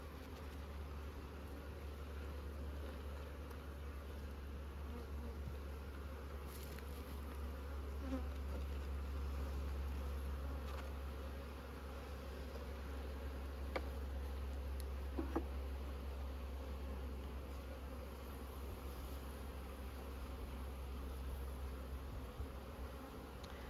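Honey bees buzzing around an open hive during an inspection as frames are moved apart, a steady low drone that stays constant throughout with a few faint knocks.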